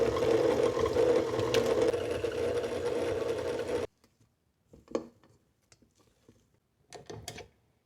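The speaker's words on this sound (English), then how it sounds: "We'll transfer this into a bowl and either with a mixer or by hand mix in 1 egg." An electric hand mixer beats an egg into freshly cooked churro dough, whirring steadily and loudly for about four seconds before cutting off, followed by a few faint clinks and scrapes in the bowl.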